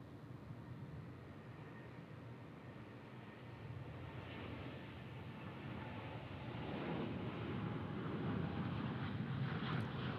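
Airliner taking off at Dallas/Fort Worth International Airport, a broad jet engine roar that swells steadily in loudness from a distance, with no talk over it.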